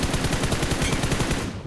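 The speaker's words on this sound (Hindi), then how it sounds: "अब यहाँ पे मैं फायर देता हूँ" Rapid automatic gunfire from the video game BGMI sounds as a continuous, loud, dense burst of evenly spaced shots, close up, with no talking.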